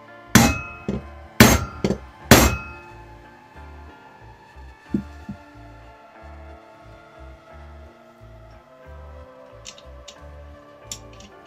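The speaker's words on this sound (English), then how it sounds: "I'm tapping on the end of the spline shaft in order to tease the splines of the outer part of the hub onto the shaft" The end of a spline shaft is tapped to seat a Rotoflex hub onto its splines. Three sharp metallic hammer taps ring out close together, then a couple of softer knocks follow over a low, steady hum.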